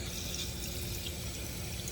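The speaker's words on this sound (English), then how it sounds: "I'm simply doing this just so we have some water in the system." Water poured into the cooling system of a Toyota AE86 with a 4A-GE engine that has sat unused for months or years, a steady continuous rushing stream heard close and alone.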